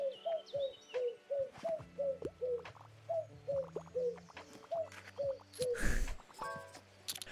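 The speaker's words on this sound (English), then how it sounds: "Look at these birds." Birds in the cozy video game Tiny Bookshop coo in a steady repeating rhythm, about a dozen soft calls at even intervals, mixed with light game chimes, tones and a brief rustling burst near the end.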